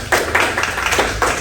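An audience applauds students with a few loose, uneven rounds of clapping, close and fairly loud, with no speech.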